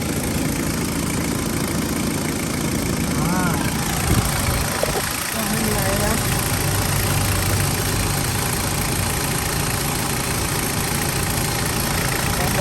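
A 2001 Mitsubishi Strada 2.8 automatic pickup engine idles with a steady, even drone throughout, close and continuous, while a voice talks faintly over it in the middle.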